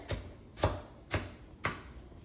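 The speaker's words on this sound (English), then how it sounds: "I'm going to take my Tupperware knife and just kind of cut it up a little bit" A Tupperware knife chopping a potato on a cutting board: four crisp, evenly spaced thuds about half a second apart, close and moderately quiet, with no voices.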